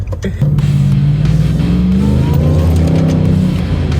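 A powerful supercharged engine in a Nissan Y62 Patrol SUV roars as it accelerates hard, pitch climbing steadily with a whining edge, loud and close.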